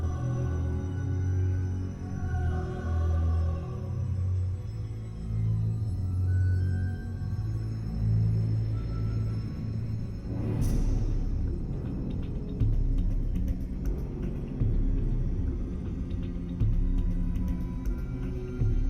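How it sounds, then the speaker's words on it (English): StarCraft music playing in the StarCraft area of an Overwatch map: a steady, moderately loud instrumental track with sustained low tones and layered melodic lines, continuing without pause throughout. "And here we got some music from StarCraft playing."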